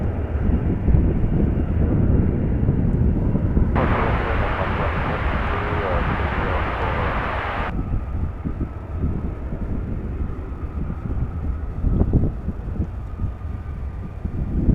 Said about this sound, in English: we have this 777 arriving from Los Angeles